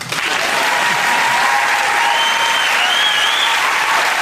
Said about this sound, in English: Now clap or leave.